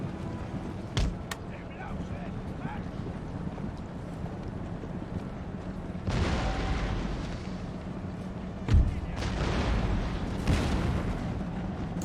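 Cannon fire in an Empire: Total War battle, with muffled booming blasts and a couple of sharper impacts over a low rumbling battlefield ambience.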